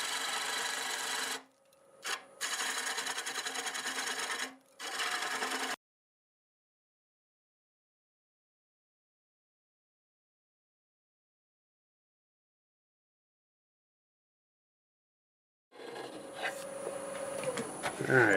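A 5/8 bowl gouge trims a macadamia wood bowl on a lathe: close, bright scraping bursts in short runs, a long silent gap, then the rasping cut resumes near the end.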